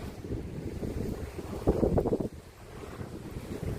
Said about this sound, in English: it's not blustery, but it is a little bit windy today.